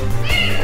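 A ten-year-old house cat gives a single short meow, close and clear, lasting under a second.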